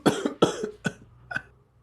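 A man coughs indoors in a quiet home, two strong harsh coughs followed by two weaker ones, close and loud with short pauses between them.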